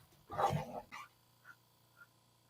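A dog named Bella gives a loud close bark with a quick follow-up yip, then a few faint soft whines or yips trail off in a quiet room.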